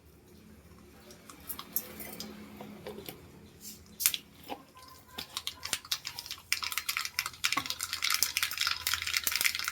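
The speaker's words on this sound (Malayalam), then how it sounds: "ഇനി കടുക് കാച്ചിയിടാം" Mustard seeds tempering in hot oil in a small pan in a village home kitchen: faint stirring at first, then sharp crackling pops thickening into a dense, busy spatter toward the end.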